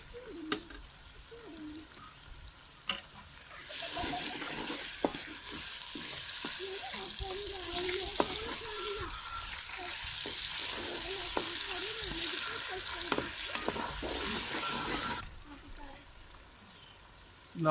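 Crushed green chili and tomato hit hot masala for a chicken and tinda dish, a bright crackling sizzle that swells after a few quiet seconds, with scattered stirring clicks and faint voice murmurs underneath.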